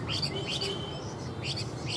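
Hwamei songbirds singing against each other at a song contest, with bright repeated chirps and trills in short bursts over a steady background hum.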